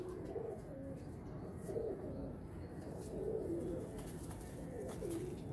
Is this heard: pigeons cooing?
yes